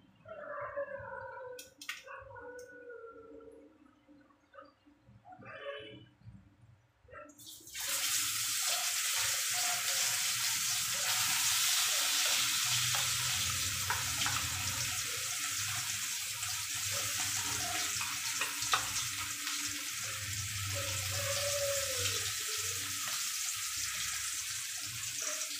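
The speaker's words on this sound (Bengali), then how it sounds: "তেলটা গরম হয়ে গেছে, আমি এবার কাঁকরোলের পুরগুলো ওর মধ্যে দিয়ে দেব।" Stuffed spiny gourd drops into hot oil and fries with a steady loud sizzle that starts abruptly after some quieter clatter and handling noises, then continues evenly close by.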